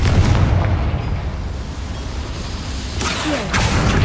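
A heavy explosion from the Confringo fire spell in the video game Hogwarts Legacy booms up front, then a deep rumble fades out, and a second crackling burst hits near the end.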